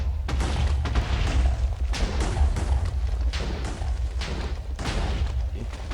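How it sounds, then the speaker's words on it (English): Repeated explosions in Minecraft while mining for netherite in the Nether, a continuous loud barrage of overlapping booms and rumbles with no clear pauses. "let's just let the explosions begin"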